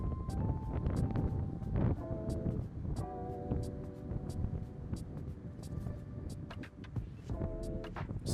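Strong ocean-side wind buffets the microphone in a continuous low roar while a drone flies near the sea, with faint higher tones drifting through and no speech.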